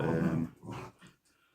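A dog growls in a low, rough rumble for about a second, then trails off into quieter grumbling, close by with no talking.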